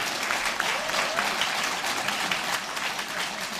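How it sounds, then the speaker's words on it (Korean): A party rally audience in Seoul claps steadily at a founding convention, sustained applause filling the hall without a break. "한번 박수 한번 쳐드립시다"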